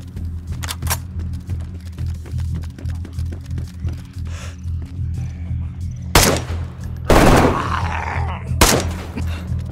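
Gunfire in DayZ, sharp cracks scattered over a low steady hum, with a few louder, closer bursts near the end.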